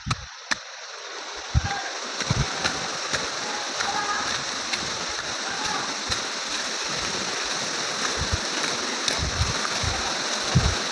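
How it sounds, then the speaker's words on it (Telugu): Small streams flowing through forested hills, a steady broadband rush of running water with splashes and occasional footsteps or knocks, and a voice speaking over it. "చిన్న చిన్న వాటర్ స్ట్రీమ్స్"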